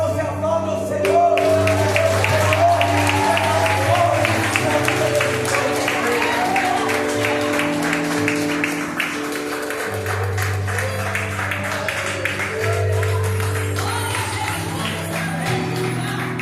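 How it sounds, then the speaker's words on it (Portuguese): A church congregation claps during a worship service, sustained applause from many hands mixed with music and a voice over the top, continuing steadily for the whole stretch. "E agora você aplaude o Senhor."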